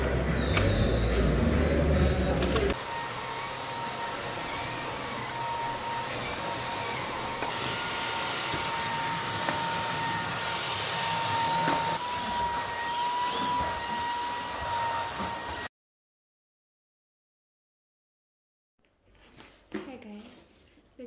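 A new Beko vacuum cleaner runs with a steady, loud motor whine and rushing airflow for about fifteen seconds, then cuts off abruptly into silence, followed by faint handling noises near the end.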